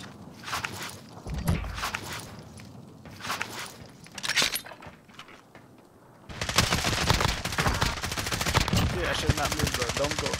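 Gunfire in a battle royale video game rattles in bursts, with a few separate shots early on and then a dense, continuous stretch of rapid fire in the second half, while footsteps and faint voices come through underneath.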